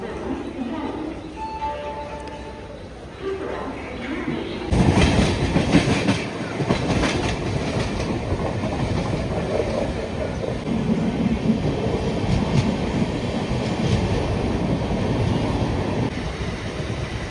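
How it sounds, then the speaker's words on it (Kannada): A Mumbai metro train rumbles past close by, loud rhythmic clacking over the rails that swells suddenly and keeps going; someone speaks briefly beforehand. "ಇದು ನೋಡ್ರಿ ಮೆಟ್ರೋ"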